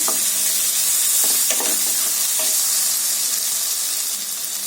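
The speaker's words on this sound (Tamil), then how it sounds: "இப்போ இந்த மசாலாலாம் பச்சை வாசனை போற வரைக்கும் நல்லா வதக்கிக்கலாம்" Tomato and spice masala sautés in a hot pan with a steady, loud sizzle, and a few scraping stirs break through near the start. No voices are heard.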